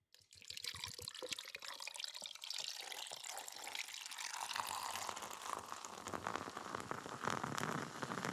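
A frothy drink poured in a continuous splashing, fizzing stream, close and steady, building slightly in brightness as the glass fills.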